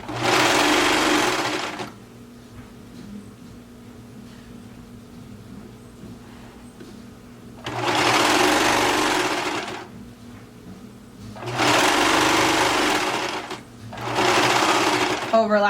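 A serger sewing machine stitches fabric in three loud, rapid whirring bursts of a few seconds each, with quiet pauses between them.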